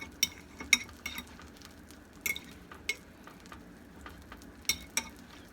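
A peanut butter and jelly sandwich is dipped in French toast mix and pressed with a fork, giving faint wet dabbing and several sharp metallic clinks of the fork against the dish, irregular and close.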